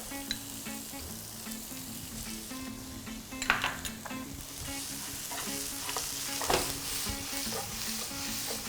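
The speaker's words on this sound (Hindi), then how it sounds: "अब प्याज को ब्राउन नहीं करना, थोड़ा सा स्वेट करना है" Finely chopped onion sautéing over high heat in a pan for sweet and sour potato curry, a continuous close sizzle broken by scraping and tossing clatters of utensil against the pan, no voices.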